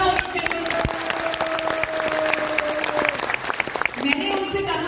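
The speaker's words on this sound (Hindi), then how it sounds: "एक बार जोरदार तालियां होनी चाहिए" An audience at a product talk gives a round of applause, sharp scattered claps mixed with crowd noise and background tones, with a voice briefly heard toward the end.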